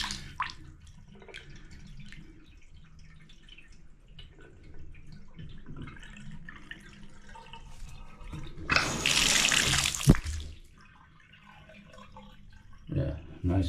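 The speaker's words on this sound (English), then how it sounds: "Yep, drains real good." Water emptying from a bathtub through a repaired drain, with faint trickles and drips at first, then a loud rushing gurgle for a couple of seconds before it fades.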